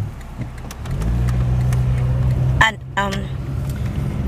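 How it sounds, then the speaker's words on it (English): A car drives past close by. Its engine hum swells steadily and then cuts away sharply, while a person talks over it. "Just waiting for that because it's a car passing by."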